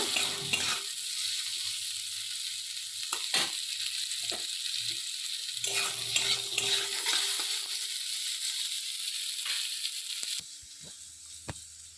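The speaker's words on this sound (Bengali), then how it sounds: "দেখুন আলুগুলো আমি দিয়ে দিয়েছি, দিয়ে ভালো করে" Potatoes sizzle in hot oil in a pan with a constant loud hiss, broken by repeated scraping and knocking as a utensil stirs them; the sizzle drops noticeably near the end.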